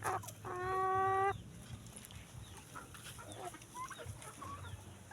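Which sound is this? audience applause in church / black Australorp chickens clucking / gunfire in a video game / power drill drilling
black Australorp chickens clucking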